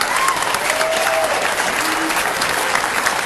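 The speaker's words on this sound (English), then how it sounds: "And all that applause you hear is just acknowledgement of a great match" Spectators applaud a great match at the 2003 Billiard US Open, a steady wash of hand clapping from a crowd at moderate distance, sustained evenly with faint voices mixed in.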